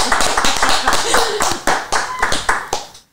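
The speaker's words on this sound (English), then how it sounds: "Let's give Ronnie Stanley a hand clap, baby." About ten sharp, evenly spaced hand claps ring out loud and close in a podcast studio, a quick rhythmic run that stops abruptly, with voices mixed in.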